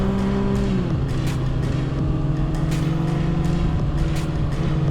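A Kawasaki ZX6R sport bike is ridden through Kullu Valley, its engine a loud, close, steady drone. The pitch dips once early on and then holds a constant hum, with wind rush over it and no talking.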